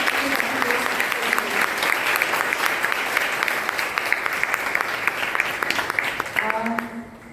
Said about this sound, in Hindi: एक बार जोरदार और जोर से तालियां